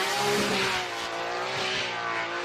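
At a Formula Drift qualifying round in New Jersey, an Essa Autosports BMW on Achilles Radial tires begins a slide toward the wall. The engine revs hard and loud with tire squeal, and it stays steady and close.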